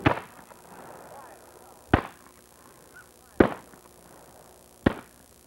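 Ceremonial rifle volley on Martha's Vineyard: four sharp, loud gunshot cracks spaced about one and a half seconds apart, each with a brief echoing tail, over quiet outdoor background.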